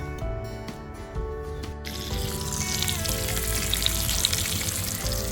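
Bacon fries in a pan at a campsite, a close, loud, steady crackling sizzle that swells after a brief quieter start, with no voices.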